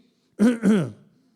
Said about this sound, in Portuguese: Arrume a sua garganta aí, dá uma pigarreada.